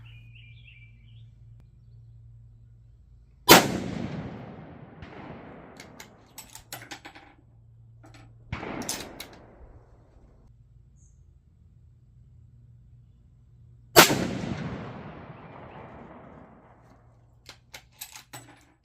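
Three loud, sharp rifle shots from a Savage 110 in .25-06 on a range, spaced several seconds apart, each followed by a decaying rumble, with quiet handling noises between.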